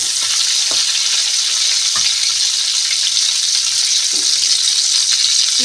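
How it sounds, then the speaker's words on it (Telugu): Garlic pieces and green chillies frying in a pan, a steady bright sizzle with a few clinks and scrapes of a spoon stirring, loud and close with no speech. "వెల్లుల్లిపాయ ముక్కలు, పచ్చిమిర్చి, కొద్దిగా వేగిన తర్వాత ఉల్లిపాయలు వేసుకుందాం."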